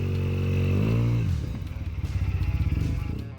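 A Honda Silverwing 600 maxi-scooter engine, 2002–2013 model, hums steadily at a close, loud idle, then drops into a quick, throbbing pulse as it revs.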